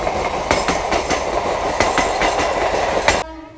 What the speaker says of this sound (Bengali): আর এদিকে ট্রেন যাচ্ছে, এটা ডানকুনি যাচ্ছে